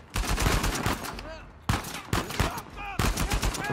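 Sniper and automatic gunfire rattle through a firefight in the video game Uncharted 4, bursts of loud rapid shots separated by brief gaps, with faint game voices in the background.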